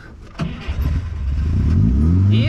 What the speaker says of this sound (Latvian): Pagaid, mēģināsim ar starteri.